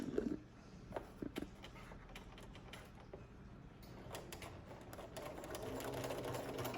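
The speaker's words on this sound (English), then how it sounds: "I'm actually sewing on the exact same thread line where I attached the ribbon earlier" Sewing machine stitching along the top edge of a hooded towel over a ribbon's seam line, a quiet, close mechanical whir with a few clicks at the start, then steady rapid running that slowly grows louder.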